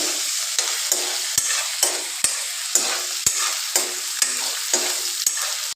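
Onions sizzle loudly in a pan for chicken dry fry, with a steady hiss of frying oil broken by regular scraping stir strokes roughly twice a second, close and with no voices.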